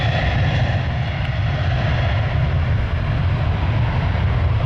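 An airliner in Continental Airlines retro livery at an airport, a loud, steady jet engine roar with a broad rushing hiss and a deep rumble that holds at an even level throughout, with no voices.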